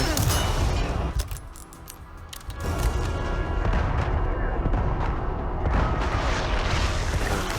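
Gunfire and explosions in Resident Evil 4 Remake's Separate Ways pile up into dense, loud booms and bursts, briefly dropping before the heavy barrage resumes and continues to the end.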